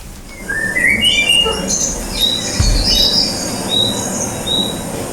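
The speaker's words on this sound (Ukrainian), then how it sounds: "Ой, як гарно співають пташечки." Outdoor birdsong with several short whistled chirps and trills over a steady low rumble of background noise, no speech.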